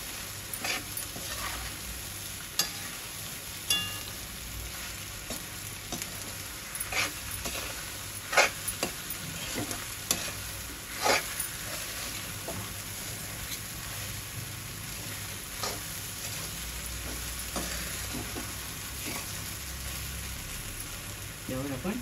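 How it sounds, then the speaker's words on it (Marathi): Kurmura puffed rice pohe being stirred and sautéed in a pan, giving a steady soft sizzle with scattered scraping and stirring clicks throughout. "आता आपण हे छान परतून घेऊया"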